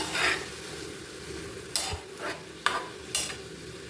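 Red amaranth greens fry in a frying pan, a soft continuous sizzle broken by several brisk stirs and scrapes of a spatula against the pan.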